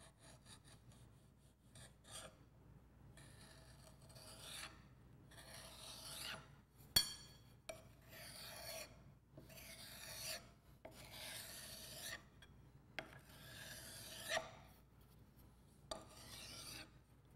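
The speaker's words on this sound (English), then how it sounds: "Using the straight edge, trim smooth the top of the soil mold." A straight edge scrapes across compacted soil to level the top of a Proctor compaction mold, a series of repeated rasping strokes with short pauses between them, close and fairly quiet.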